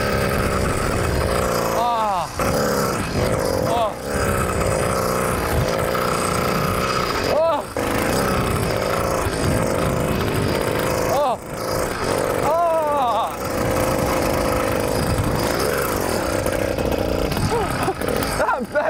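A mountain bike fitted with a 100cc petrol engine rides over a dirt motocross track, its small engine buzzing loudly and continuously up close, revving up and down with brief throttle dips.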